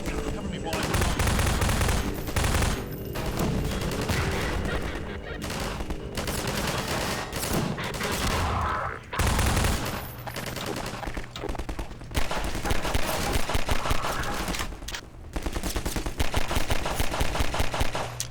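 Rapid bursts of gunfire from weapons including a pistol and shotgun in the video game Half-Life 2, loud and continuous across the stretch with frequent overlapping shots and brief lulls, with a voice talking over the action.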